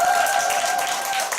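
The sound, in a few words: audience applause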